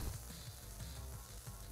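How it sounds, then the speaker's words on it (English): An egg frying on a stove in the video game Undertale Yellow gives a soft, faint, continuous sizzle with light crackling pops. "To heat the stove until the egg begins to sizzle."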